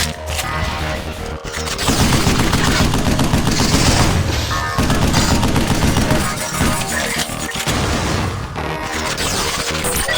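Sustained, loud weapon fire from Sam's modified suit weapon in the video game Vanquish, dense rapid bursts with heavy booming impacts running almost continuously over a blaring game soundtrack.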